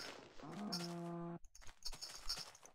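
A cow in the Minecraft video game gives a drawn-out, buzzy moo that holds steady for about a second and then cuts off abruptly. Fainter game noises scatter through the quieter stretch that follows.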